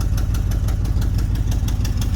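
A 1968 El Camino engine with an exhaust leak runs close by, a rapid, steady knocking chug with regular sharp ticks and pops over a deep rumble.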